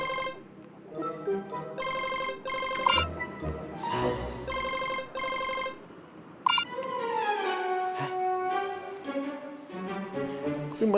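An unanswered phone call rings as a loud, repeating electronic ringtone melody, its patterned bursts cycling several times across the stretch before a longer sliding tone phrase takes over.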